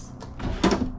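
A drawer on a motorhome kitchen counter slides open or shut, a short wooden rumble ending in a soft knock, close by.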